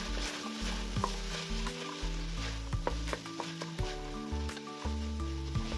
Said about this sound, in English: After a few minutes, add the chopped carrots and continue stirring on medium heat.